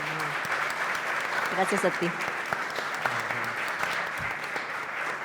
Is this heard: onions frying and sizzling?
no